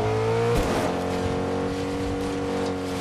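A car drives through a Fortnite match, its engine tone steady and loud, then a sudden shift partway as it bumps or strikes something and keeps rolling with a continuous motor drone.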